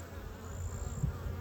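Bees buzz close to the ground at a nest, a faint continuous drone with a brief louder pass near the end, no talk.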